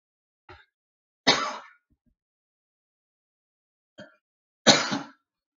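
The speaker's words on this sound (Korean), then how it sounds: "기침만 한 줄 알았더니만은 또 기침이 나네요" Two separate harsh coughs, each preceded by a short catch of breath, close and loud with silence in between.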